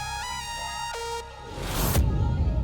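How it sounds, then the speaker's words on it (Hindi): A phone ringtone plays as a rising and falling melodic tone for about a second, then gives way to a louder burst of dramatic music and ambience in a Hindi TV drama scene. "जीजू का फोन आया है"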